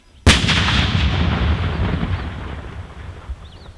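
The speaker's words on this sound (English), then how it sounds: "Time for firing, I'm firing now!" A controlled detonation during landmine clearance in Uganda: one sudden heavy blast that booms and rolls away into a long fading rumble over several seconds.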